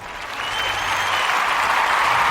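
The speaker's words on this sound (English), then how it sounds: "Round of applause, man." Applause from a crowd swells from moderate to loud, a thick sustained clapping that builds over a couple of seconds and holds, with no clear talk on top.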